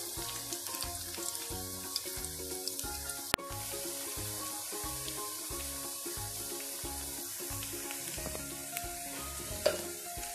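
Ginger garlic paste frying in a pan for a chicken liver (kaleji) masala, a steady close sizzle with occasional stirring scrapes and clinks throughout, no talk.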